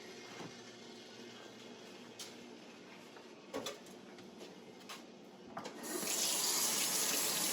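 Water runs from a sink tap at home, starting softly with a few clunks and handling knocks, then turning into a steady, louder hiss of flowing water near the end. No one speaks.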